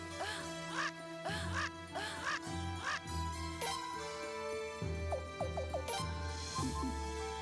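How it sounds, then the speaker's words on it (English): Repeated duck-like quacking squawks used as a character's combat voice in the video game Suikoden V, several bursts in a row over steady game music. "I'm assuming we now just sound like a bird in combat."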